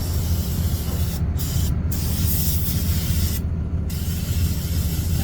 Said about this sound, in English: I like to give it a good spray down on those liners